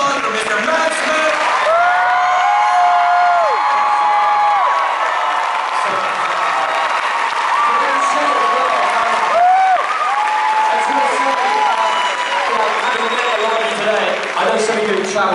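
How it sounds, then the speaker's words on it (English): Comic convention audience applauding and cheering for actor Matt Smith at a panel, a sustained loud wash of clapping with whoops and shouts, and a voice talking over it throughout. "Please put your hearts, both of them, into a round of applause for Mr. Matt Smith"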